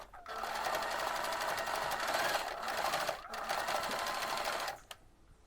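Sewing machine stitching a buttonhole, whirring in a fast continuous run with a couple of short breaks before stopping at the end, close and clear, with no talking.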